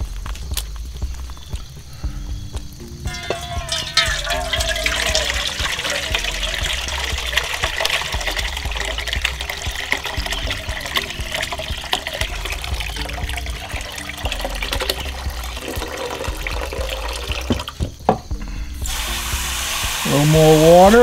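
Water runs steadily into a bowl as tomato seeds are rinsed by hand. A continuous close trickle and gush carries on for about twenty seconds and swells louder near the end.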